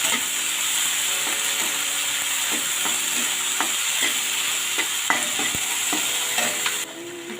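Tomato mixture cooks in a pan with a steady soft sizzle, while a utensil stirs and scrapes against the pan in repeated light clicks and taps, close and continuous.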